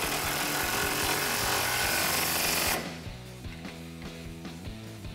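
Power tool with a swivel and 19 mm socket tightening a bolt while a leveling kit is installed on a 2005-2021 Toyota Tacoma: a loud, dense, continuous whir for nearly three seconds, then it cuts off, leaving quieter rhythmic rattling.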